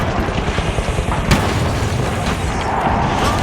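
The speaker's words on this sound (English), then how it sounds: "Frag grenade out." Frag grenade blast in the video game The Finals: a loud, dense roaring burst of noise with one sharp crack partway through, set against thick continuous rumble.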